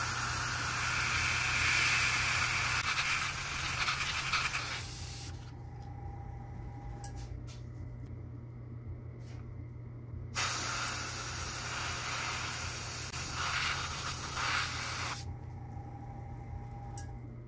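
An airbrush sprays transparent black paint through a stencil onto the edge of a fishing popper to form gills, in two long steady hissing bursts separated by a quieter pause.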